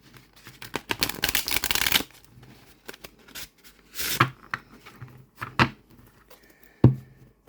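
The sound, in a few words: shuffling a linen-finish tarot deck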